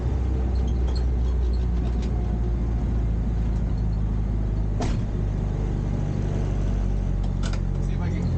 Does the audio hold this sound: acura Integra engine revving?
yes